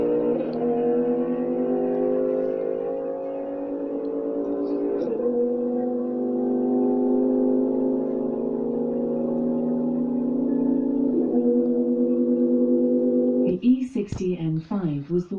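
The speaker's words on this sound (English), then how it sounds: "Put 1 hour, car sounds." Recorded car engine sounds played back through an Alexa smart speaker: a steady, droning engine hum with strong harmonic tones and slight shifts in pitch, followed by a voice speaking at the end.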